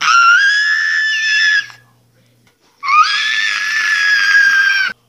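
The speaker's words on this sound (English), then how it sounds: "she screamed" A girl's loud, high-pitched screams: two long sustained shrieks, each over a second long, separated by a brief silence, close and piercing with no talking over them.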